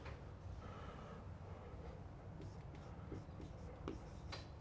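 Marker writing on a board during a calculus lecture, a faint scratchy squeak with short strokes and taps against quiet room hum, no voice over it.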